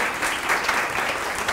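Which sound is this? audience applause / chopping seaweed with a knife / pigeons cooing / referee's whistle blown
audience applause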